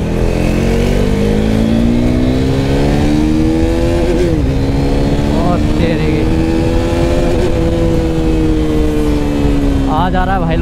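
A new motorcycle engine revs hard while being ridden, a loud, continuous drone whose pitch climbs and sweeps with each burst of throttle, close up and dominating the scene.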